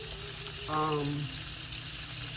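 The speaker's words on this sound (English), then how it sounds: "as I was saying before I started frying that fish" A steady, even sizzle of salmon frying in a pan fills the clip, with a brief murmur of voice partway through.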